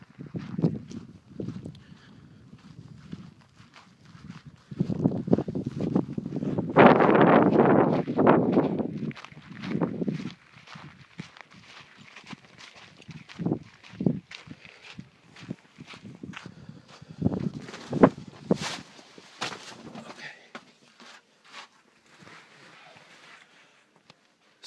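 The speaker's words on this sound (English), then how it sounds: "I'm going to try to get to another spot where the wind will be less annoying." Wind gusts outdoors at an off-grid site, with strong buffeting bursts and scattered footsteps crunching on the ground, close and uneven.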